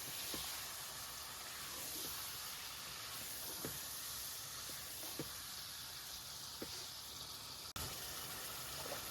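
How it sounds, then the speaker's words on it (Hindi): Garlic and ginger frying in a pan give a steady, fairly quiet sizzle and hiss, broken now and then by faint clicks and light taps of cooking. "अब जी ऐड कर देते हैं गार्लिक एंड जिंजर, और इसके साथ भी हम तकरीबन 1 से 2 मिनट के लिए इनको ज़रा भूनते हैं"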